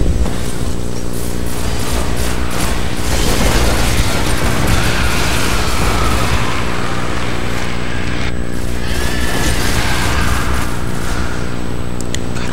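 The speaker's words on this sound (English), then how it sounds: "I'm gonna throw my grenade." A Destiny grenade goes off amid constant game noise, dense booming and crackling bursts layered over a loud droning bed with no clear pauses.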